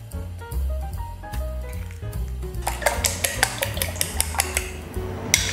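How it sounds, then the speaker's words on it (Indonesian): Rapid clinking of a utensil against a bowl while whisking eggs, steady quick strokes that grow louder and faster, close up with no talking. "setelah itu ya, kita kocok telurnya"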